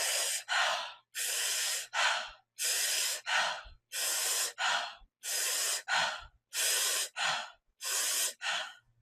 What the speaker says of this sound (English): The third one, the circular breathing, only has an in and an out. There's no pauses or gaps.